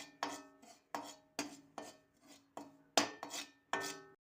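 Prasad is roasted in a pan on an Uttarakhand home stove, with about nine rhythmic scraping strokes of a utensil against the metal, each sharp at first and then fading, spaced roughly half a second apart.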